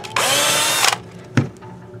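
A power drill whirs in a steady, close burst for under a second while backing out the neck bolts of a 1989 Squier guitar, followed by a short second jolt and a faint tail.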